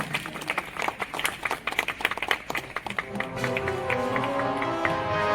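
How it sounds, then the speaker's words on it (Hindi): An audience claps loudly at a park inauguration ceremony, sharp individual claps thinning out after a few seconds as sustained tones of music or voices take over. "स्वागत और अभिनंदन के लिए जोरदार तालियां।"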